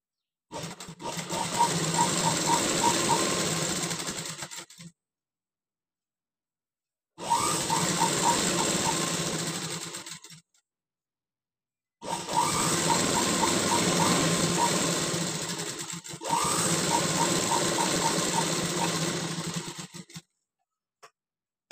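A sewing machine stitches lining fabric at a half-inch margin in four sustained runs of several seconds each, separated by short pauses, close and steady.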